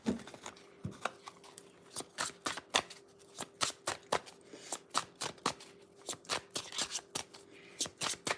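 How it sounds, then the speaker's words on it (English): A full 78-card tarot deck being shuffled by hand, with crisp, rapid riffling bursts repeating in an uneven rhythm, close and fairly quiet, with no talk. "I'm just shuffling these up really good"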